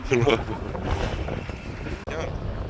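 Gusty wind blows across the airport runway at Gibraltar and buffets the microphone with low, rough rumbling, while people talk over it.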